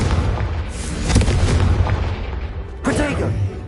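Fire-spell explosions from the Confringo curse in Hogwarts Legacy, cast on PS5: two loud, broad booming bursts a couple of seconds apart over a steady low rumble, with a short shimmering tail after the second blast.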